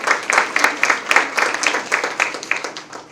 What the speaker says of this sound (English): So you all deserve a round of applause.